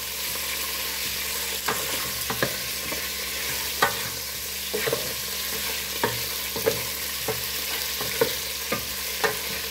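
Chicken thighs browning in a pan for a Cypriot dish with kolokasi, a steady sizzle under regular scraping and tapping strokes from a stirring utensil.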